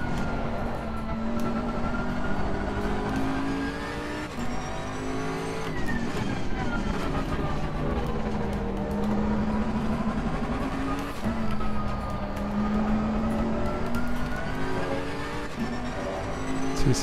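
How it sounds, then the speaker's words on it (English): Race car engine in Assetto Corsa Competizione at traction control setting TC7, revving steadily throughout a lap with wavering pitch as the car accelerates and shifts. The stuttering, cut-in engine note is loud and continuous, with no talking. "Hear the traction control."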